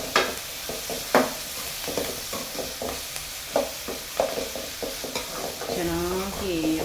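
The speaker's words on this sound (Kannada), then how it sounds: "ಎಣ್ಣೆಲೆ ಚೆನ್ನಾಗಿ ಈರುಳ್ಳಿ ಮತ್ತು ಹಾಕಿರೋ ತರಕಾರಿ ಎಲ್ಲ ಬೇಯಬೇಕು" Onion, carrot and chopped vegetables frying in oil with a steady sizzle, interrupted by repeated scrapes and clinks of a spoon stirring the pan, and a brief tonal squeak toward the end.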